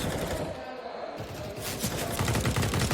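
Gunfire in a Counter-Strike match on the Vertigo map, a burst of quick shots crackling under a commentator's busy talk, followed by denser rapid firing.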